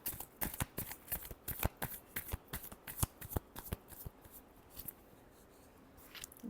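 Tarot cards are shuffled in quick repeated riffles, a rapid close series of crisp papery flicks that slows and fades toward the end.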